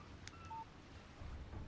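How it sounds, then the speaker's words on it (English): A short electronic alert from a phone in the video game Alan Wake Remastered: a brief tone followed by a steady beep, faint and alone against low background rumble. "Text message from Barry."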